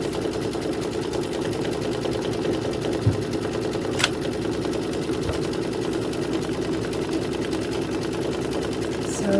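A sewing machine runs steadily throughout, stitching a table runner at close range, with a couple of faint clicks partway through.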